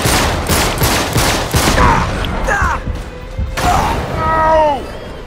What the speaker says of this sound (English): I put two bursts into his chest.